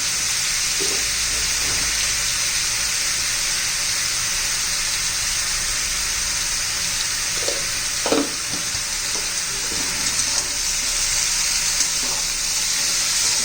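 Ridge gourd sautés in oil in a pan over a gas flame with a steady, loud, close hiss, broken by a few faint stirring knocks.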